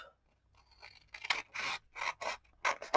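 Scissors trimming folded paper for a handmade vintage-style envelope, several crisp close snips in uneven rhythm after a quiet start.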